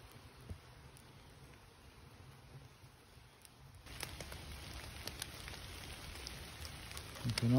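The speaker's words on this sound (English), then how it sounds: "You can definitely hear the rain" Steady rain falls beside a grill and newly built custom smoker outdoors, a continuous close hiss with scattered drop taps that grows louder partway through.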